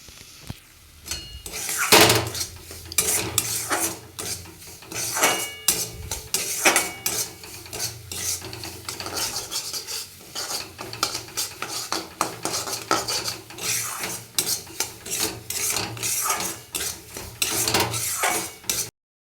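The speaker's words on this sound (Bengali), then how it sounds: "সুজিটা ভালো করে ভেজে নেব লাল করে।" Semolina being fried in oil in a pan, stirred with a metal utensil: repeated sharp scraping and clinking against the pan over a soft low background, with uneven bursts through the whole stretch and no talking.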